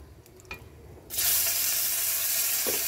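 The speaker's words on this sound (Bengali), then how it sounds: "রসুনটা দিয়ে দিলাম, রসুনটা হতে থাকুক।" Garlic hits hot oil in a pan with a sudden loud, steady sizzle that holds for a couple of seconds after a quiet start with a few light clicks, close by and with no talk.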